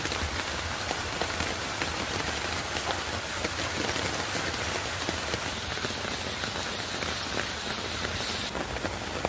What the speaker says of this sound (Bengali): বৃষ্টি দিয়ে দিন শুরু হলো সকালটা খুব খুব ভালো লাগতেছে কারণ একদম সকাল সকাল বৃষ্টি